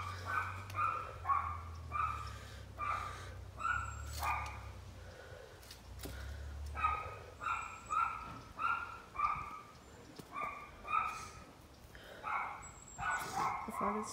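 Several dogs bark repeatedly in short rhythmic bursts, fairly close, with a few yips mixed in and occasional low voices underneath.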